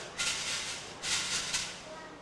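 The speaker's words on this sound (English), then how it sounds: "it has a cylinder, and it has beads inside, or stones" A shaker made of a cylinder filled with beads or stones rattles in a few hissy swishes, two longer shakes with a quick one between, moderately close and fairly soft.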